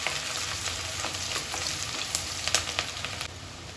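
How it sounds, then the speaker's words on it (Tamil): Onions sizzle and fry steadily in a pan with cardamom, cloves and cinnamon for an Indian-style masala macaroni, with a few sharper crackles and stirring scrapes near the end; no talking. "வெங்காயம் போட்டு நல்லா வதக்கிக்கோங்க."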